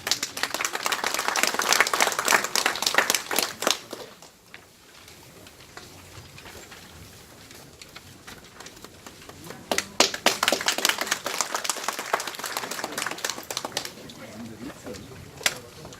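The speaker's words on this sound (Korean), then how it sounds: "큰 박수 부탁드립니다" At a city residents' regional meeting, the audience applauds the mayor's introduction in two bursts of many hands clapping, a loud stretch that fades to a quiet pause before a second round of clapping starts and tapers off.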